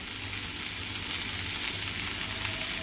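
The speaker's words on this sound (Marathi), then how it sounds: "आता आपलं पनीर टिक्का चारी बाजूने चांगले फ्राय करून झालेले आहेत" Paneer tikka cubes sizzle and fry steadily in a hot pan, a continuous close crackle with no voices.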